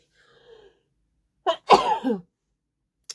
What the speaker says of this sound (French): Oh, je vais éternuer.